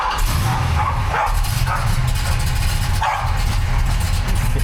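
A dog barks several times in irregular bursts at a car, with its engine idling steadily underneath.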